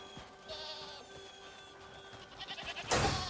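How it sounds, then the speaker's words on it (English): Goats bleating in the Crimson Desert video game on a mountainside, a wavering, drawn-out bleat under soft ambient music, then a louder burst of noise at the end. "There's goats up here."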